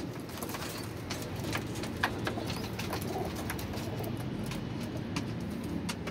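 Pigeons coo in a cage in a loft setup, soft low cooing mixed with faint bird calls and occasional light rustles, steady and close throughout.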